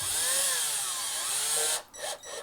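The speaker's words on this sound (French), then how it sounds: "Ça sert à rien de trop visser, trop serrer. Vous risquez d'endommager le bois." A cordless drill-driver running at low speed screws into wood, a steady close whir for nearly two seconds, then stopping abruptly with two short final bursts.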